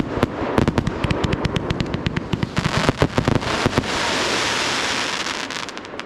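New Year fireworks exploding in a dense, rapid barrage of loud cracks and bangs, then easing into a steady rumbling hiss with scattered pops near the end.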